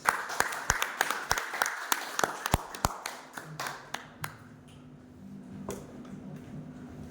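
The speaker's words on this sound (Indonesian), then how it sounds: "Mari kita beri aplaus." Scattered clapping from a small school audience at a positive-culture dissemination session at SMP Negeri 2, a few sharp irregular claps thinning out and fading to quiet.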